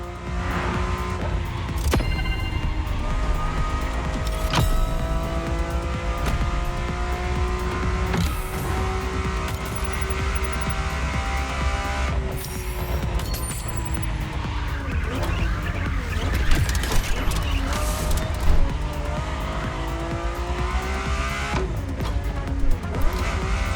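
A Ferrari F50 in the racing game The Crew Motorfest howls continuously at high revs, its engine note rising and falling through gear changes while tires squeal and skid through corners, loud and unbroken throughout.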